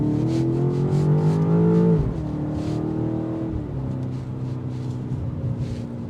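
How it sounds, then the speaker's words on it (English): A 2025 BMW X5 M Competition's S68 V8 engine revs hard with a rising exhaust roar, shifts gear, then keeps accelerating with a deep, throaty rumble from inside the cabin. "The exhaust note that just stays in the cabin"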